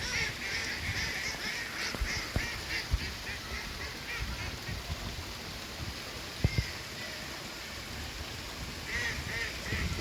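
Ducks or geese outdoors in Hénin-Beaumont, France, give repeated honking and quacking calls from a distance, faint and scattered over steady background hum, with no talking.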